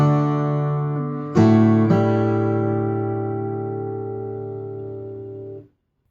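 Fingerstyle acoustic guitar plays a short passage from Randy Newman's When I'm Gone, with a sustained chord, a plucked change and a long ringing chord fading to silence, close and clear with no talk.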